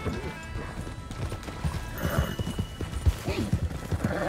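Horses gallop in a Red Dead Redemption 2 game scene, hooves clip-clopping in a fast, uneven rhythm with an occasional whinny, moderately loud with no talk over it.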